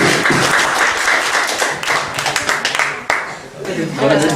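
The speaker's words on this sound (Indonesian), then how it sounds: "kita beri aplaus" Audience applause at a legal advocacy talk, dense clapping filling the room fairly loudly for several seconds, with voices mixed in over it.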